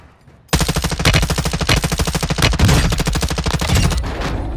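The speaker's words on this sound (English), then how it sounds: "A lot of gunfire over here." Rapid, sustained bursts of automatic gunfire from the video game Warzone 2 ring out loud and close, a dense rattling stream of shots that barely pauses for several seconds.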